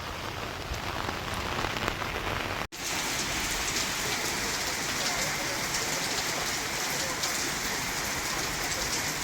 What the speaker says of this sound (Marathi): झाली पावसाला सुरुवात छत्री घेऊन फिरतोय रस्त्याने